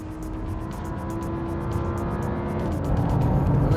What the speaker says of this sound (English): we're leaving the pits now in the Lamborghini Huracán